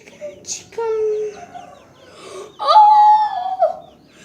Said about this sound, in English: There's some chicken.